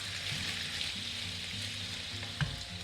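Calamari pasta sauce simmering over a low flame in a pan, a soft, constant sizzle and bubbling hiss with one small pop near the end, close and even throughout.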